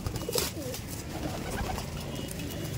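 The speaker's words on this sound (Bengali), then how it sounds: "ওয়াও, পায়রাগুলো একটু ক্লোজলি ভাবে দেখায়।" Pigeons kept in a loft coo softly and repeatedly at close range, low throaty calls over a quiet background, with no talking.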